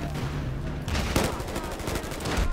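Battlefield Hardline gunfire, rapid close bursts of shots and sharp cracks that form a dense, loud volley lasting the whole moment, with blasts overlapping one another.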